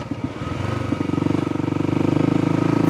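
A 331cc big bore Kawasaki KLX250 dual-sport motorcycle runs steadily close up, its single-cylinder engine throbbing with a fast, even pulse that builds slightly in loudness as it rides along, with no talking.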